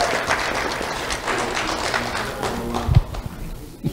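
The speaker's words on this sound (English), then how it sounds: "Let's have a round of applause for Isley Hayes" Applause for a middle school student at a sheriff's office awards ceremony: steady, moderately loud clapping from a crowd with a few sharper thumps near the end and faint voices beneath.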